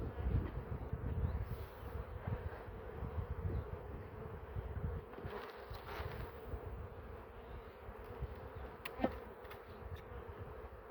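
Honey bees buzz at a hive in Ardahan, a steady, soft drone of many wings with no break, fairly faint and alone.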